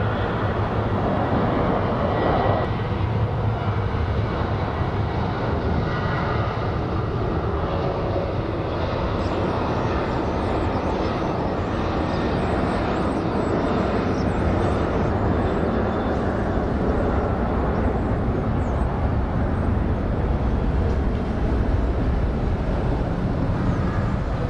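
A plane departing Phoenix Sky Harbor International Airport gives off a continuous, dense engine roar that holds steady for a long stretch, loud and broadband with no talk over it.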